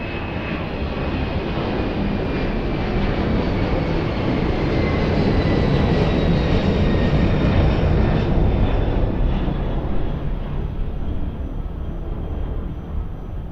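An airliner takes off from runway 02 at Lisbon Airport, a sustained loud jet engine roar with a rising whine, steady for the whole stretch and easing slightly toward the end, no talking.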